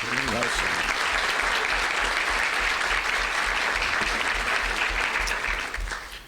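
A breakfast audience at a Middlesex Chamber event applauds Mark Maselli, dense, loud clapping sustained throughout before tapering off at the end.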